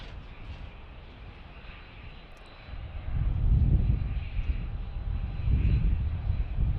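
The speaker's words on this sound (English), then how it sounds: "We got arrival 2 Southwest planes, one on the north runway that we're monitoring here." A Southwest airliner arriving at Dallas Love Field rumbles past as a broad, low jet-engine roar that swells from a distant hum to a loud, steady drone.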